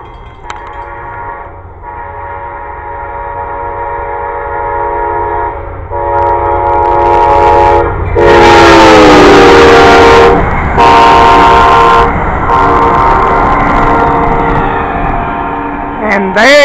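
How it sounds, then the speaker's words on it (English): A train rolls past with rail and engine rumble throughout, while a loud horn blasts several times near the middle and again toward the end. "Here comes another train."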